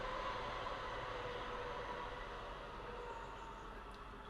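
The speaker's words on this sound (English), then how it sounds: "Train's here. Did you guys hear that in this mic?" A train passes close by, its steady broadband rumble and rolling rail noise loud throughout and easing slightly toward the end, with no talk.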